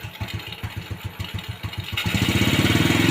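Old Pitung motorcycle engine, first idling with a steady low putter, then revved so the note rises into a louder, faster throbbing drone near the microphone.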